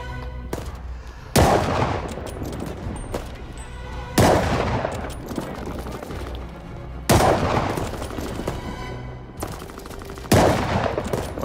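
Gunfire in the WWII shooter Call of Duty: Vanguard at Stalingrad: four loud, heavy shots or bursts spaced a few seconds apart, each a sharp blast followed by a long rolling decay over continuous battle noise.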